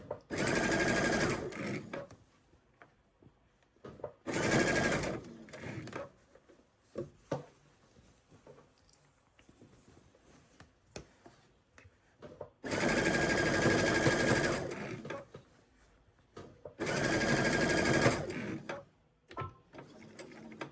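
A sewing machine stitches sweater sleeves in four long, steady whirring runs, close and loud, separated by quieter pauses with small handling noises.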